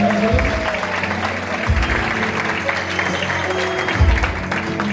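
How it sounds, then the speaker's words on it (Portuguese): A church congregation clapping steadily and loudly, a sustained wash of applause that swells slightly near the end. "Vamos aplaudir o Senhor"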